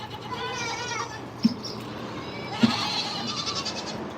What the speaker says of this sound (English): I've noticed actually a couple of goats out there.